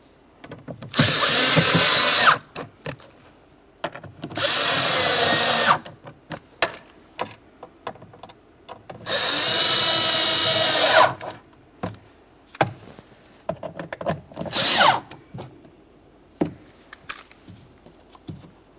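Short bursts from a power drill snugging screws into a Jeep Patriot rear door panel: three longer whirring runs and a quick final burst, separated by quiet clicks and handling noises, close and with no talking.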